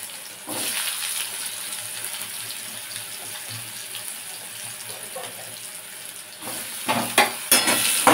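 Potatoes sizzle as they fry in hot mustard oil in a pan, giving a steady bubbling hiss. Louder stirring and scraping bursts come toward the end.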